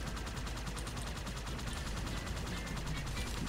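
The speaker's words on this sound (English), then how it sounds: "I'm shooting." Continuous gunfire in the Halo 2 video game, a dense steady stream of rapid shots with no pauses, loud and close throughout.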